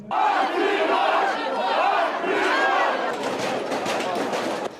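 Crowd storming a regional administration building in Donetsk, many voices shouting slogans together in loud, continuous waves of chanting and yelling that rise and fall close by.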